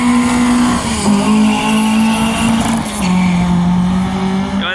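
A Volkswagen Golf race car's engine roars loud and steady at a drag strip, holding a sustained high drone with shifts in pitch as it pulls away, a continuous close racing engine sound without talk.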